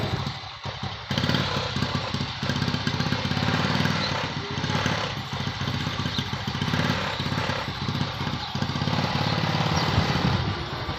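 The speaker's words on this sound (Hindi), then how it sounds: "अहमद रूटीन मुताबिक अपनी बाइक पर बैठे हुए हैं।" A motorcycle engine idles outdoors beside a home courtyard. It gives a steady, loud, close putter that continues unbroken for the whole stretch.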